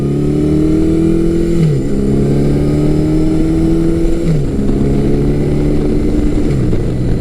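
A Yamaha XJ1100 Maxim, an 1100cc four-cylinder motorcycle, accelerates hard through the gears. Its loud, close engine drone climbs steadily in pitch, then drops briefly at each of three gear shifts.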